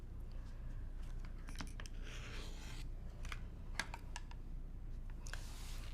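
Rotary cutter slicing through quilt fabric on a cutting mat, with faint scattered cutting strokes and soft clicks and shuffles, fairly quiet and close with no talking.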